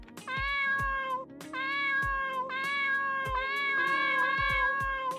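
Cartoonish cat meows from the video game Dave the Diver, a series of bright, tonal mews repeating in a steady rhythm with short pauses, loud and close, no talking over them.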